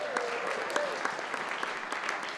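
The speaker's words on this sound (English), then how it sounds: "Give yourselves a round of applause." A comedy festival crowd in Boulder claps for itself in a steady, even burst of applause that fills the room throughout, with no voices standing out.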